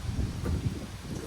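Strong outdoor wind buffeting the microphone as a continuous low roar and rumble, close and steady, during work on a 2003 Mini Cooper S subframe.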